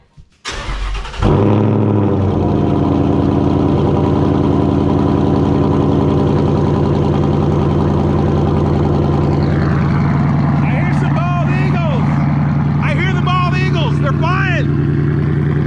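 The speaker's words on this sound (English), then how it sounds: "So first we wanna get like a cold start and just let you show the car better." A Foxbody Mustang with a swapped Coyote engine and capped exhaust pipes fires up from cold with a sharp crank and bark, then settles into a loud, steady, rumbling idle, with people talking over it toward the end.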